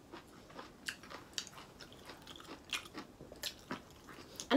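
Someone bites and chews grapes close to the mic, with crisp crunchy bites and wet chewing in an irregular rhythm, soft and steady with no talking.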